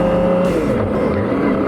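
A Kawasaki ZX25R motorcycle revs while riding, its engine note shifting up and down in a short, loud, close burst with no talk.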